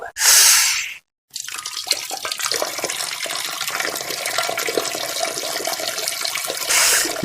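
Water runs in a bathroom as a loud, steady broadband rush, like a flush or tap, with a short break and a louder burst near the end. No one speaks.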